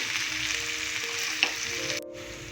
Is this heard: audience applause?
no